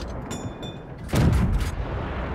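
Tank cannon fire from an auto-loading Walker Bulldog in World of Tanks, faint shots at first, then one loud, close booming blast with a lingering rumble tail, no voices.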